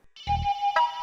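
A phone ringtone rings indoors, a bright sustained electronic tone that starts after a brief pause, with a low thump near the start and a second accent partway through, all fairly close and clear.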